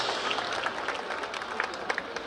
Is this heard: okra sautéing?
no